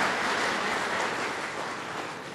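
Audience applause at a Buddhist dhamma talk by Bhante Uttamo Mahathera, dense and steady clapping from a crowd throughout, tapering slightly toward the end.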